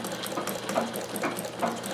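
A Singer sewing machine stitches with a zig zag attachment, making a quiet, rapid mechanical whir with a regular ticking rhythm, close by and alone.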